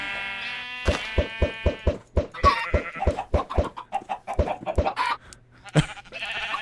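Video game chickens cluck and squawk in a rapid series of sharp, bright calls with pitched tones mixed in, fairly close and clear.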